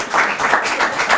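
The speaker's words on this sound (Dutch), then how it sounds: "Applaus en uit de koppen!" Broadband crowd applause at a carnival prince event fills the short stretch, steady and fairly loud, with no voices on top.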